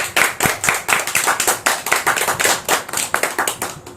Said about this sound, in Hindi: आइए हम सब लोग मिल करके उनके नाम से हम तालियां मार के प्रभु की स्तुति करेंगे